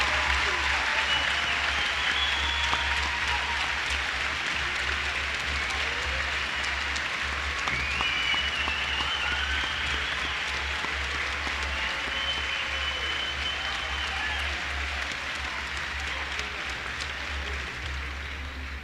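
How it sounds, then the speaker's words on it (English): Sustained applause from a large audience at a Lawrence County High School graduation commencement, steady and dense throughout with a low hum underneath and no talk. "Let's give them a round of applause."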